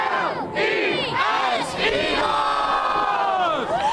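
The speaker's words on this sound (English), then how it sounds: "This crowd is ready to go." A huge crowd at an Eagles championship parade in Philadelphia roars and cheers continuously, loud and dense, with shouts and whoops rising out of the din.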